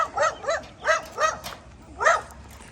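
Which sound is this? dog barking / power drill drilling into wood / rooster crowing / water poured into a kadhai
dog barking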